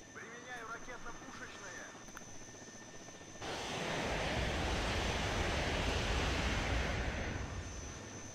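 A helicopter descending toward the ground in the WARNO strategy game, its rotor and engine noise swelling into a loud, dense, sustained roar after a stretch of quieter background with speech.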